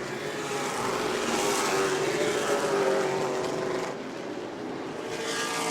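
A pro late model stock car on the final lap of the Shark Bite 100 at New Smyrna, its engine a steady loud roar down the back straightaway that eases slightly before building again.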